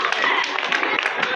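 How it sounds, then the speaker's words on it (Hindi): Students and an audience clap in dense, continuous applause at a school science fair and exhibition, close and loud throughout the brief moment. "तालियों से सभी बच्चों का प्रोत्साहन"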